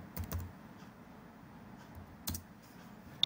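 A few quick bursts of keystrokes on a computer keyboard, short clicky clusters separated by quiet pauses, with one sharp final click, close and alone.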